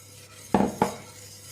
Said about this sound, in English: So just let that sit on the heat and just keep stirring